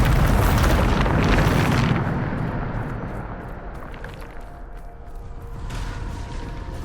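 A Bombarda spell explosion in the Hogwarts Legacy video game: a heavy, rumbling blast opens loud and full, then decays into a long crackling rumble with a smaller swell near the end.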